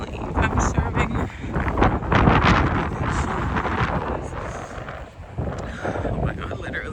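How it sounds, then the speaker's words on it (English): Strong winter wind buffets a camera microphone in loud, rough gusts that rise and fall throughout and almost cover a voice speaking underneath. "literally I'm crying because it's so windy"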